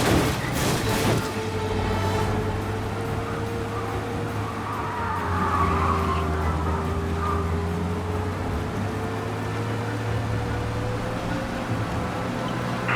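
Cars speeding and skidding during a police chase in Mafia: Definitive Edition, rendered on PS5: a continuous engine drone with a steady pitch, a sharp knock near the start, loud and sustained, with no voices.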